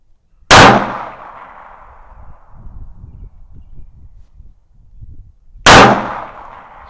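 Two sharp, loud gunshots from a High Standard .22 Magnum derringer, about five seconds apart, each cracking hard and then ringing off, with faint rustling and handling noise between the shots.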